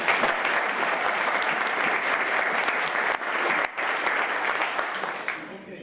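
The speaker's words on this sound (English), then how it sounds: "Let's give Amanda one more round of applause." A crowd applauds a presenter steadily and loudly, dense clapping throughout that tapers off at the very end.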